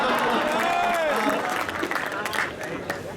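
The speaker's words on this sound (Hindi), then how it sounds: "विनोद तालियां बजाओ" Applause from an audience at a Hindi poetry gathering (kavi sammelan), a dense wash of clapping with some crowd noise and overlapping voices, steady and loud through the short stretch before easing slightly.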